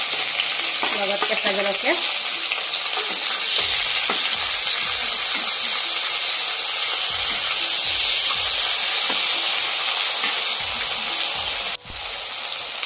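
Ginger, garlic and green chili frying in hot oil, a dense continuous sizzle with stirring clatter, while a voice speaks briefly near the start.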